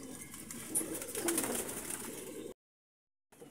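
Pigeons in a breeder setup coo softly in low, rolling murmurs for a couple of seconds before a brief silence, heard alone at a modest distance.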